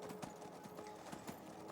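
Horse hooves gallop in Skyrim during a speedrun, a quick steady clip-clop of repeated thuds, moderately loud and close, with game ambience underneath.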